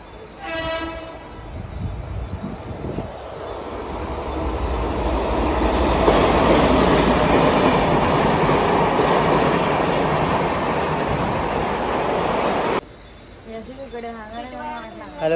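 An LTT–Karmali superfast express train rumbles past loudly for several seconds at Bhandup station with a steady roar of rolling wheels, then cuts off abruptly to quieter ambience with a voice.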